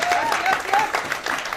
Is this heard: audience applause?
yes